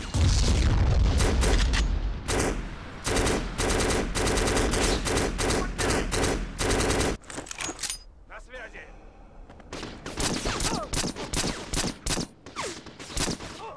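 Rapid bursts of gunfire and booming explosions from a Black video game played in the Portuguese-dubbed version, on a factory level, loud and dense, with a quieter stretch midway before the shooting resumes.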